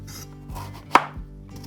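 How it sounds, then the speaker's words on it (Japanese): A knife cuts carrots into chunks on a cutting board with a few separate chops, one sharp and prominent, the others softer, with nothing else heard. "人参は乱切りに、"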